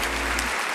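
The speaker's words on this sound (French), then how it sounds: "On peut encore l'applaudir, bien évidemment." Audience applause for speaker Victor Bourgeon at a French business event, a short burst of steady clapping that fades out toward the end.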